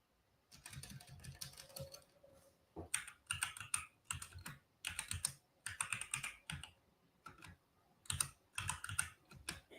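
Typing on a computer keyboard at a desk: bursts of quick, close key clicks in irregular clusters with short pauses between, moderately quiet, with no talk.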